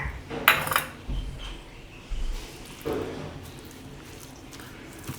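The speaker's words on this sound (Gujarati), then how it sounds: "તો આને આપણે મિક્સ કરી લીધું સારી રીતે." Cold potato mash being mixed with ginger, chilli and fresh coriander in a bowl, with a few utensil scrapes and clinks and soft squishing, close and fairly quiet.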